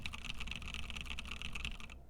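Steady, fast typing on heavily lubed Dragon Fruit switches with OEM-profile PBT keycaps on a Stacked65 keyboard, a close, even stream of muted clacks that stops just before the end.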